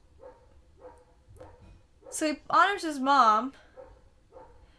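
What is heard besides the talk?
dogs barking in the background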